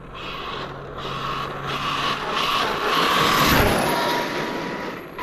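An Arrma Talion RC car fitted with an 800 kV motor runs nearby, producing a loud, steady mechanical whine and rattle that swells and holds with a slight rise near the middle.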